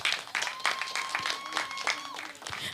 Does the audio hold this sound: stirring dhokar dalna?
no